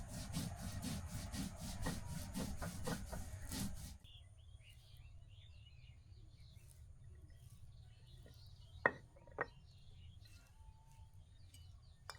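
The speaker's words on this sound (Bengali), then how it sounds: "এখন আমি সরিষাগুলো আগে বেটে নিব" Black and white mustard seeds ground on a grinding stone, a rhythmic series of rough scraping strokes for about four seconds, then quiet outdoor ambience with faint bird chirps and a couple of sharp knocks.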